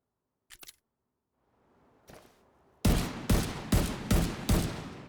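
Weapon gunfire in The Division 2 video game: a few faint clicks and a quiet shot, then five loud, evenly spaced booming shots in close succession, near and alone.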